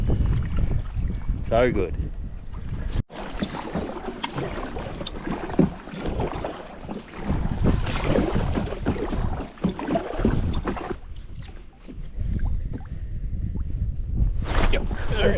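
Kayak out fishing for Murray cod and running with the wind, with steady wind rush and water sloshing against the hull, plus paddle and gear knocks, as a person speaks over it.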